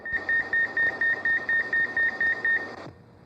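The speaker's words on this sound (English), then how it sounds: "That's your duty timer telling you it's time to shake basket at duty cycle." A McDonald's fryer duty timer sounds a steady string of about fifteen quick, evenly spaced electronic beeps over a low kitchen rumble, reminding the cook to shake the fry basket, then stops abruptly.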